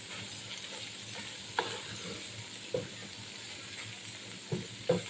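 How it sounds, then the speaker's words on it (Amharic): Red onion added to garlic and meat frying in a pan gives a soft, fairly quiet sizzle, with a few sharp knocks of a utensil scattered through the steady hiss. "አሁን መልሼ ደግሞ ቀይ ሽንኩርት አደርጋለሁ"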